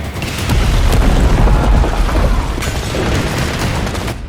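Heavy artillery fire and aerial bombing from a 1965 war battle, a dense, continuous barrage of deep booming explosions and rumbling blasts, loud and sustained with no talking over it.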